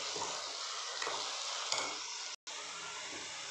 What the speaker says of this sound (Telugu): బాగా ఉల్లిపాయ ఫ్రై అయ్యేంత వరకు బాగా మిక్స్ చేసుకోవాలి.